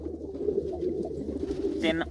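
A pigeon coos in soft, low, repeated murmurs close by, with a faint voice at the end.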